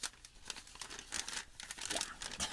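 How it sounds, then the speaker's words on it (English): Tracing paper crinkles and rustles close up, a dry, crisp crackling much like glassine bags, with steady irregular bursts of crumpling throughout. "It sounds like glassine bags, but it's tracing paper"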